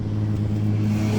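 Engine of a Ferrari 250 GT Berlinetta Lusso while driving, a steady, deep, smooth drone with a low rumble, close and loud for the whole short stretch, with no talk over it.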